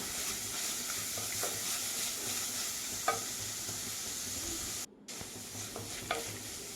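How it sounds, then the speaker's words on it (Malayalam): Ginger sautéing in a pan for a bitter gourd masala curry, a steady close sizzle with occasional stirring scrapes and a brief cut-out partway through, no voices. "അതൊക്കെ ഒന്ന് നന്നായിട്ട് ഒന്ന് വഴറ്റിയെടുക്കുക"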